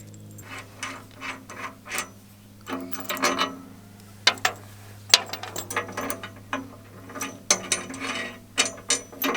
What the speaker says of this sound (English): While we're using a socket set